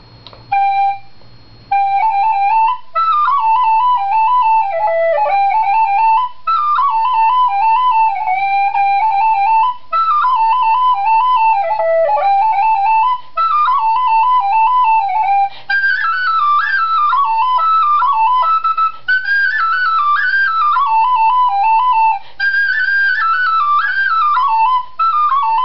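A Copeland tin whistle plays a lively melody alone, bright, clear and close, with short breaks for breath between phrases throughout.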